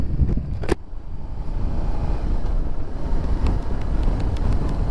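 Wind buffets the microphone outdoors beside a Tracer 7 motorcycle, a loud continuous low rumble with a short sharp knock near the start.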